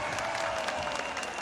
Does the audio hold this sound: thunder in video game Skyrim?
no